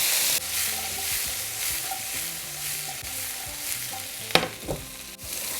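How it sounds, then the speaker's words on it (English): Tomatoes frying in a pan for salmon fajitas, a steady close sizzle with repeated scraping stirs and a couple of sharper utensil clatters near the end. "now add the tomatoes. And keep stirring"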